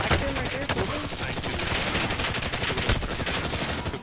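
Rapid video game gunfire crackles in dense, overlapping bursts from a rooftop shooter, steady and loud throughout with busy battle noise behind it.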